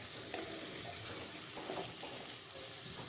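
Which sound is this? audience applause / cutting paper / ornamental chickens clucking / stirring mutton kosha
stirring mutton kosha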